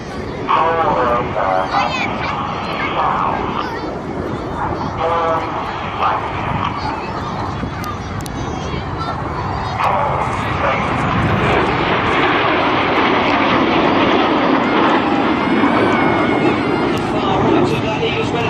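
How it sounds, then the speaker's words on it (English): Red Arrows jets fly past in formation trailing red, white and blue smoke, a loud sustained jet roar filling the whole stretch while a commentator talks over it. "they're going to draw a red, white and blue straight line shape of smoke in the sky as they fly the Python"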